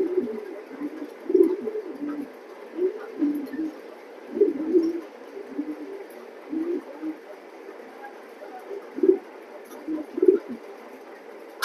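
Racing pigeons cooing in soft, low, rolling bursts that repeat every second or two, close by, over a faint steady background hum.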